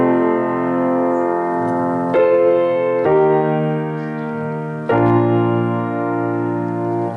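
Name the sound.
piano playing a section of a song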